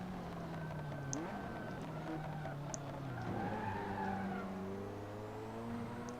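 A KTM race car in Assetto Corsa on PS4 Pro: a steady engine drone rising and falling through gear changes, with tire squeal and skidding layered on top, at a moderate level.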